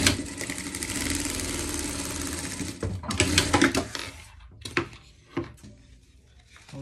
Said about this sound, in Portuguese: Agora, vamos passar a costura aqui.